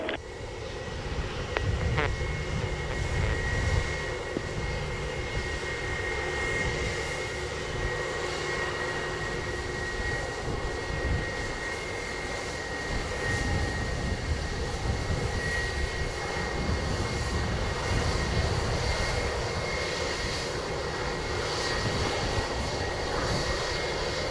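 An airliner takes off at Montego Bay airport in Jamaica, its engines giving a loud, sustained roar that holds steady throughout with a thin whine riding above the rumble.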